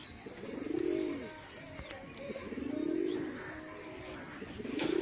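Pigeons coo in a steady series of three long, rounded calls, close and moderately loud over a faint background hiss.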